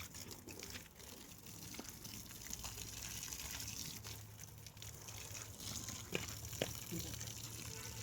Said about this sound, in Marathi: आता त्यांना पाणी घालतो